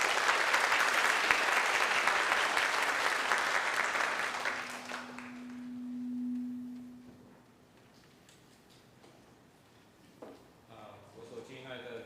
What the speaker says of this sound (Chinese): 我们拍手来欢迎